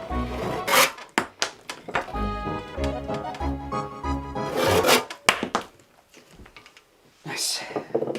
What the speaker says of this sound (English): I think we'll hit it with a bit of sandpaper and then we'll try to get this going